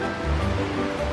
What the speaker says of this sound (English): it comes cascading down the escarpment in a couple different spots